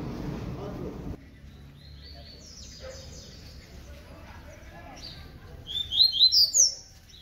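A papa-capim seedeater sings outdoors on a street, giving a quick series of faint, high chirps near the end after someone briefly talks over low background noise.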